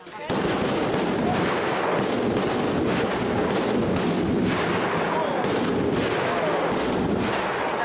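Explosive blast at the former Val de Fer iron mine during an iron festival, a series of loud sharp booming cracks repeating roughly every half second to second over a sustained roar, heard close.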